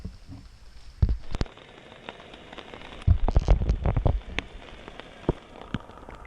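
Rain at a backcountry kayak campsite, scattered drops tapping and pattering close by in irregular bursts, with a denser cluster in the middle, over a quiet background and no talking.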